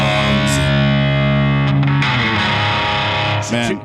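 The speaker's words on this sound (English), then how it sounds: "I turned on my distortion pedal." Electric guitar played through a distortion pedal, a loud, saturated sustained tone with buzzy harmonics that shifts into choppier distorted notes, continuous and close.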